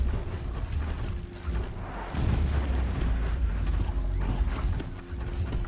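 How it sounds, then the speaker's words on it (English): Far-off explosions in Horizon Zero Dawn rumble as deep, booming swells, a heavy low roar building around the middle and rolling on with mechanical clatter, fairly loud and without talk. "Explosions in the distance."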